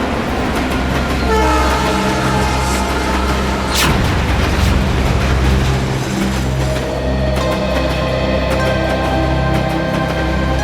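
A train pulls out of a station, with steady loud rumble and clatter of wagons, a rising horn-like tone midway, and sustained mechanical whine as it gathers speed, close and dominant throughout.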